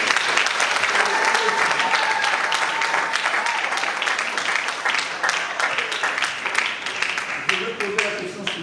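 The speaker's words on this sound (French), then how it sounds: "On applaudit le charmant et la..." Steady audience applause at a French televised show, dense and continuous throughout with a few sharper individual claps near the end, while a faint voice carries underneath.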